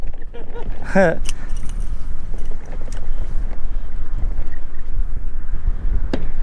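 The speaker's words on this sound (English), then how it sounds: "Sheesh, it is windy out here." Steady, blustery wind roars across the microphone throughout on a saltwater creek shore, with a brief voice near the start and faint boat or water noise underneath.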